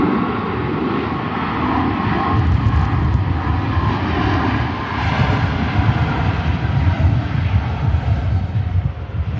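A jet airliner roars steadily as it departs Manchester Airport, a loud continuous engine rumble and whine holding for several seconds with no voices.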